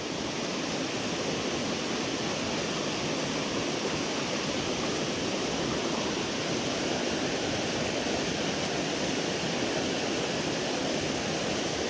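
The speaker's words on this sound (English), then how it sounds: "Got a deep pool down here, a middle pool, all this fast water moving in, putting all this oxygen in the water" Fast water in a North Carolina backcountry trout stream rushes into a deep pool, a loud, steady, unbroken roar of broadband churning that holds constant throughout with no voices.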